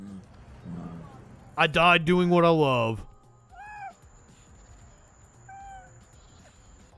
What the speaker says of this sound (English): You get some big kitties.